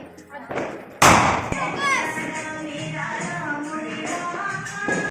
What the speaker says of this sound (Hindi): यहाँ पे पटाखे छोड़ रहे हैं बच्चे।